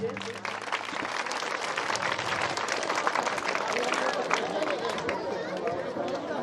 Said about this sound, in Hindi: तालियां का स्वागत कीजिए